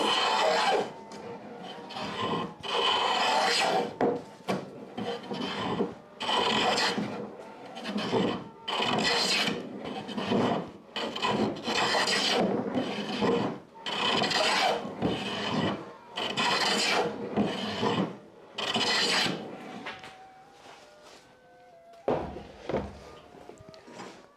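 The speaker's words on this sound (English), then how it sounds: "It's probably because of the fact that it doesn't sit square in the vise. and I'm planing fairly square." A hand plane shaves wood held in a vise while making stairsteps, with repeated loud rasping strokes in a steady rhythm and a few knocks near the end.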